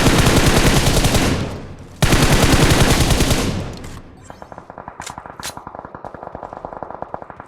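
Automatic gunfire in PUBG Mobile: two long, loud continuous bursts, followed by a quieter stretch of rapid, evenly spaced single shots.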